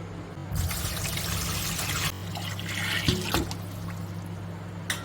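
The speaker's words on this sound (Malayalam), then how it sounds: "നമ്മുടെ കൂവപ്പൊടി നമുക്കൊന്നുകൂടെ ഊറ്റിയിട്ട് അടുത്ത വെള്ളം കൂടെ ഒഴിക്കാവേ" Water is poured onto settled homemade Kerala arrowroot starch and drained off in a kitchen, a steady splashing and trickling stream of liquid with a low background hum, rising and falling in bursts.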